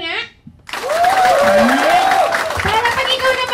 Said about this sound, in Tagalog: ready na ba sa palakpak? Sample nga?